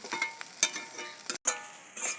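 Fenugreek greens stir-frying in a pan, with a steady crackling sizzle and a few sharp scrapes and clinks of a spatula.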